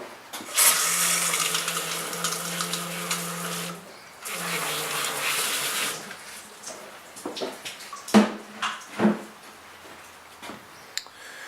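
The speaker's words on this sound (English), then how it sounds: "I usually just have like a garden hose and just rinse it off a little bit" A garden hose rinses corrosion off a car battery, a broad spray of running water that plays steadily for a few seconds, pauses, returns, then breaks into short splashing bursts.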